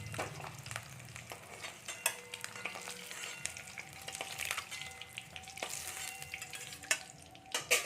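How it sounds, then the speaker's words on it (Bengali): An egg fries in a pan with a soft, continuous sizzle, broken by scattered sharp clicks and scrapes of a spatula stirring against the metal; no one speaks. "দেখুন বন্ধুরা আমরা ডিমটা ভেজে নিই"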